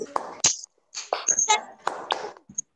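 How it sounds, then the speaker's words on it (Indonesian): Children in an online class perform a rhythmic spirit clap, a few sharp hand claps in a patterned sequence mixed with their voices, close and fairly loud with short pauses between bursts. "Tepuk semangat."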